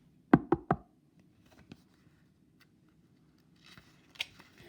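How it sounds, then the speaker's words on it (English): Three quick knocks on a door, crisp and close, followed by near silence with a faint tap and a distant rustle later. "He knocked at the door."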